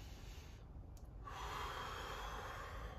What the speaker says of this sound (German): atmet tief durch die Nase ein